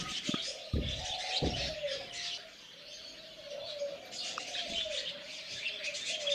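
Budgerigars chirp and chatter continuously nearby in breeding boxes, a busy mix of high twittering calls with a few soft thumps and scratches.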